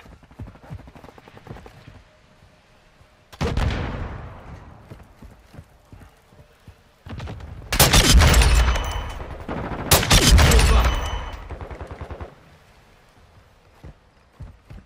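Gunfire from the player's gun in a Modern Warfare 2 multiplayer match comes as three loud, close bursts of rapid shots. Quieter game sounds fill the gaps between them.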